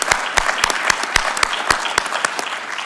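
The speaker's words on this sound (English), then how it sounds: "Round of applause for the entire leadership team" Applause from the audience for the leadership team at a United Nations conference town hall in the ECOSOC Chamber, heard as scattered, sharp claps over a steady crowd wash, without any talk.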